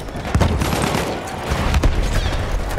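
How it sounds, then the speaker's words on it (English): Enemy gunfire in Battlefield 1 during a defensive Amiens operations match: dense, overlapping shots crackle close by in a continuous barrage, with sharper reports punching through near the start and again toward the end. "That's an enemy shot too."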